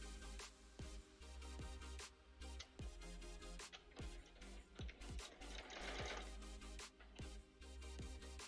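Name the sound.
sewing machine sewing a cosplay costume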